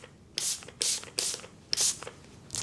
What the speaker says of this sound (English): So this right here is a facial spray